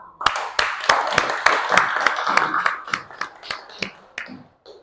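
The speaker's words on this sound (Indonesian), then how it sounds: "Mari kita beri aplaus bersama-sama." A classroom group claps after a student group presentation, a short burst of sharp, irregular hand claps close by that thins out and stops near the end.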